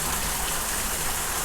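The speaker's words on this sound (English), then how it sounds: "See the hail coming down now?" Small hail falls during a passing thunderstorm, a dense, constant pattering hiss like heavy rain on surfaces, steady and fairly loud with no voices.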